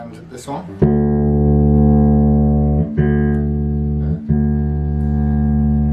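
An Ibanez BTB or Westone Thunder active bass guitar played with a treble-cut EQ setting, a few quick plucks followed by a long, sustained, rounded low note restruck twice.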